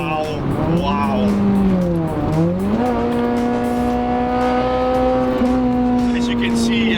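A Honda Civic Type R FN2 cornering at speed: a loud, close, continuous engine drone that dips and climbs in pitch through the bends, then holds a steady high note.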